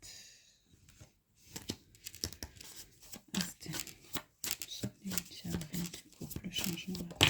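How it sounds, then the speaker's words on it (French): Tarot cards rustle and snap with a series of crisp papery clicks and soft slides as one card is drawn from the deck, close up, while a person speaks quietly over them. "je voudrais prendre une seule carte"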